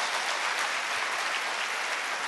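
Congregation clapping together in a church service, a steady, fairly loud wash of many hands applauding continuously with no voices on top.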